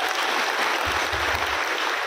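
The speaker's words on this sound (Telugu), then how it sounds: "ఇప్పుడు గట్టిగా చప్పట్లు కొడుతుంది" An audience applauds loudly at an event where a candidate is being introduced, a dense, continuous wash of many hands clapping at once with no pauses.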